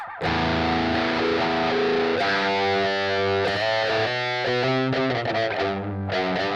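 Electric guitar with heavy distortion playing sustained chords and bends, loud and up close, thick buzzing tone with no voices.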